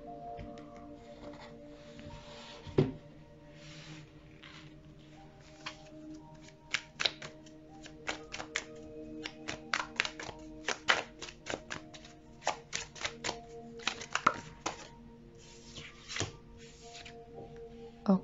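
Tarot cards are shuffled and drawn by hand: soft riffling and sliding with bursts of crisp card snaps and taps, irregular and close in a quiet room.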